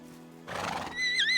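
A horse in the Medieval Dynasty video game gives a loud, close whinny that rises and wavers at the end, after a brief muffled rustle and hoof noise.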